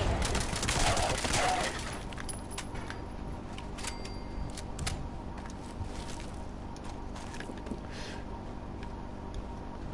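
Heavy cannon blast from the Broadsider in the game Fallout 76, a loud burst opening the clip, then a steady din of gunfire and combat noise with faint voice beneath.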